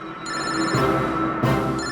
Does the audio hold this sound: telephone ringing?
yes